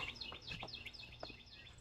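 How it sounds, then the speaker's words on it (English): Faint birdsong drifts in outdoors near a tiny house garden, a quick run of high chirps and trills over low background hum. "The birds are really singing."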